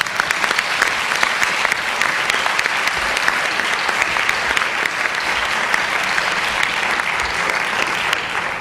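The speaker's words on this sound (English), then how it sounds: "I think we owe him a big round of applause." Sustained audience applause fills a hall at a University System of Maryland event after a speaker is introduced, a dense, steady clatter of many hands clapping at even loudness throughout with no voices over it.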